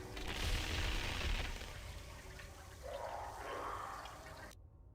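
A cold grenade goes off in the Knights of the Old Republic video game, a whooshing, watery burst with a deep rumble that fades into a softer hiss before cutting out.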